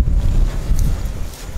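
Gusty wind buffets the microphone at an outdoor shotgun range, a steady low rumble that swells and dips throughout with no other clear sounds.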